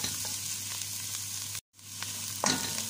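Small amount of ginger sizzling in oil in a frying pan for chicken curry, a steady close frying hiss that briefly cuts out, then resumes with a sharper burst near the end; no talking.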